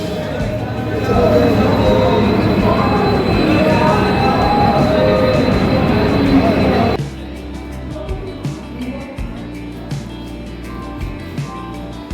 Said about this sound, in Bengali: ট্রেনটা খড়গপুর স্টেশন ছেড়ে দিল